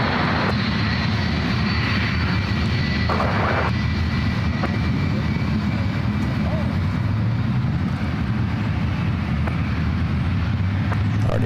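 Steady, loud jet engine roar from a United Boeing 757 heading for the runway at SFO, a continuous broadband rumble that keeps a constant level throughout, with a voice talking over it.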